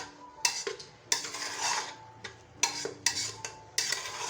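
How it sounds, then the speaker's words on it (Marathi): A metal spoon scrapes and clanks against a pan while garam masala is stirred and sautéed for chicken, with sharp repeated strikes every second or so over a soft background sizzle, close and fairly quiet. "परतवून घ्यायचं"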